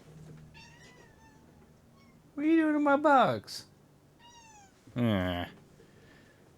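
A cat meows a few times at close range, rising and falling cries in short bursts, while someone talks quietly nearby between the calls.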